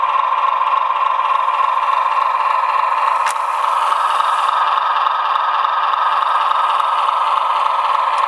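A model LIRR C420 locomotive's DCC sound decoder plays a steady diesel engine idle, a continuous mid-pitched hum with a faint rattle and a brief click near the middle, running alone without any talk.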